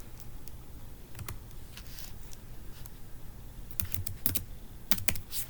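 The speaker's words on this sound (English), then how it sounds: "Start typing." Quiet, steady keyboard typing, soft key taps clicking away in irregular bursts against a low background hum.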